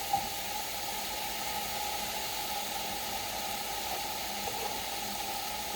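Onions sizzling in melted butter in a pan, a steady, fairly quiet hiss with a faint crackle running evenly throughout without talk.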